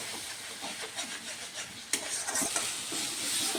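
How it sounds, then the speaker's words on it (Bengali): Tomato paste fries in spiced oil for a Bengali fish roe curry, a soft hiss broken by repeated scraping stirs and a few sharper clatters, close and steady without speech. "টমেটো পেস্টগুলো ভালো করে ভাজতে হবে।"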